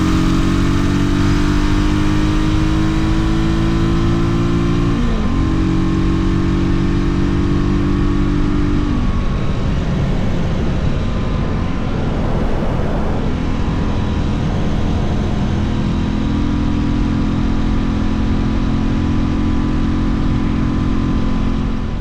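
A motorcycle ridden at speeds up to 70 mph, its engine droning steadily with shifting pitch as it accelerates and changes gear, all mixed with heavy wind rush, loud and close throughout with no talking.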